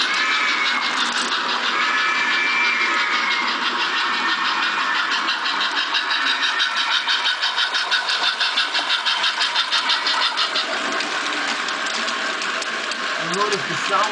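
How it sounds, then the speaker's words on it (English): Model railroad locomotive sound unit plays a rumbling diesel-style engine as the train arrives, a steady mid-pitched drone that grows choppier and pulsing toward the end before a brief distinct scrape. "Hear this noise coming as the train comes."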